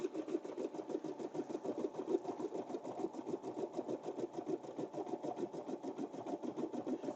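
An embroidery machine stitches puff embroidery in a fast, even rhythm of mechanical needle strokes, steady and moderately close with no talking.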